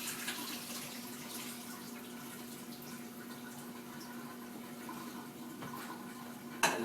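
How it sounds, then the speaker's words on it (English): Steady rushing water pours continuously as boiled potatoes are drained into a sink, with a faint clunk near the end. "I'll drain the water off of them and then add them to the stock"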